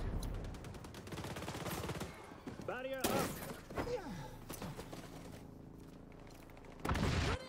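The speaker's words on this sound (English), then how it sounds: "Go ahead, keep shooting." Rapid bursts of gunfire from the online shooter game XDefiant during a package-escort match, loud shots in quick volleys with game effects and a brief voice, ending in another sharp burst.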